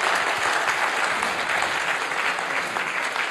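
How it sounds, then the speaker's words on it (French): Audience applause fills a university Olympic session hall after a speaker's talk, dense and steady clapping throughout at close range with no voices on top. "Vous pouvez l'applaudir bien évidemment."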